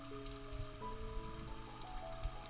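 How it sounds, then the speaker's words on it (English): Rain falls on the surface of a backyard fish pond covered by a net, a faint, steady patter of drops on water with a low background hum. "I think they'll love the rain hitting the surface of the water."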